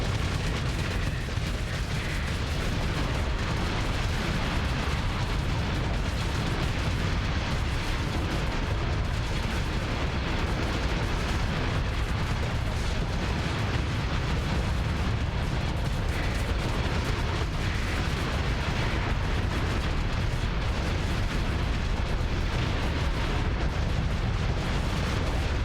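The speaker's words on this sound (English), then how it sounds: "Still launching missiles." Missile launches and explosions in the space combat game Starsector form a dense, unbroken wall of rumbling booms and bursts that runs for the whole stretch at steady, loud intensity, with no talking.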